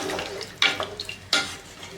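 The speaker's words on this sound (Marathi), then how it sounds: "मिक्स करून घेऊयात एकदा" Rice being stirred into hot water in a pot for vegetable pulao, a short run of soft swishing and two sharp scraping strokes of the spoon against the pot, close and alone.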